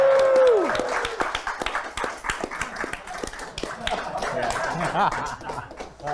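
An audience at a comics publishing convention panel claps for a character, crisp scattered claps with a few chuckles, starting after a brief tone and tapering off toward the end.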